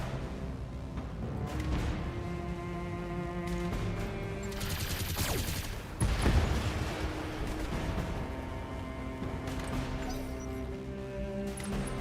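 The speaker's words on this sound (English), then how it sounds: "A couple of machine guns," Gunfire and explosions in the Battletech video game, with a tiny, fragile Locust light mech firing a couple of machine guns and a small laser. Dense, continuous bursts of rapid shots and crashes run throughout, swelling into a louder blast midway.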